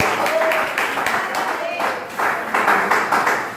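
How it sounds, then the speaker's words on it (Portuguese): A church congregation applauds in a steady, loud wash of clapping that carries on throughout, with voices and shouts mixed in among the crowd. "Aplauda o Senhor bem forte nessa noite"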